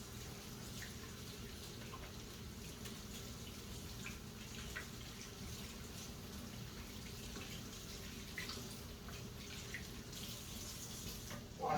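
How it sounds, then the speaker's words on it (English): Running tap water while washing hands in a home kitchen, a steady, soft, continuous splashing hiss that holds even throughout, fairly faint and close, with no talking. "Wash my hands again."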